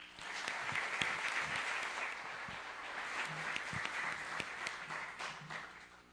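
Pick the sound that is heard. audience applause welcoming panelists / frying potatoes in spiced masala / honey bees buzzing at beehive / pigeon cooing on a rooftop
audience applause welcoming panelists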